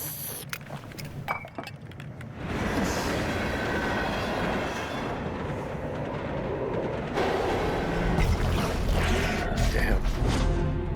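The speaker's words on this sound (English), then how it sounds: "I'm on the train." A train runs on rails in the video game Zenless Zone Zero, with a steady rolling rumble and metallic clatter building up after a quieter start and carrying on loudly, with sharp clinks and squeals near the end.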